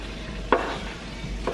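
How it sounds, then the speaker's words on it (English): Vegetables frying in coconut oil in a pan for a chickpea curry, a soft sizzle with a couple of brief stirring scrapes, close and fairly quiet. "Oh, and you could hear that sizzle."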